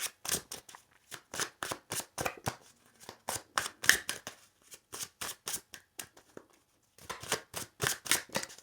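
Tarot cards shuffled by hand in quick rhythmic riffling bursts, close and fairly quiet, with a brief pause before another run of shuffling.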